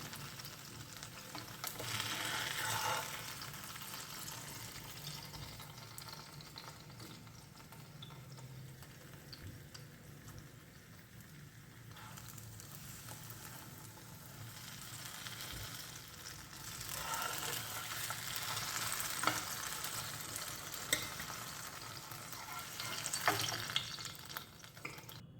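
Stuffed plantain frying in oil, a continuous soft sizzle and bubbling at low level that swells and eases over time, with occasional faint ticks and stirring sounds.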